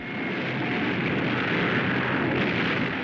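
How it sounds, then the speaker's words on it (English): A bomb explosion striking a cinema in a 1936 film, heard as a sustained, loud roaring rumble of blast and debris that holds steady for about three seconds with no voices. "the first bomb lands on the cinema"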